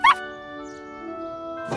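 Cartoon puppy giving a single short, high yip at close range, then a sustained bright tonal musical chord under it, with another brief burst at the end.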